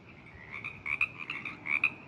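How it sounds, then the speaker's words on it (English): Frogs or toads croak at night at a campsite in Leo Carrillo State Park, a rapid run of quiet, repeated raspy calls that pulse unevenly for a couple of seconds. "Let's see if we can see any frogs or toads."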